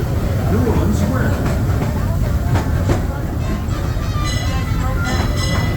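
Rumbling rail carriage noise with steady low hum and occasional clacks, the Disneyland Railroad train moving slowly through New Orleans Square Station, with indistinct voices underneath.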